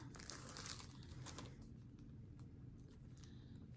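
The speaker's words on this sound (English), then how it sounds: "Let's see if we can open this package." Paper and plastic wrapping on a package of cards crinkles and tears in a steady rustling stream, loudest at the start, close by and with no voices.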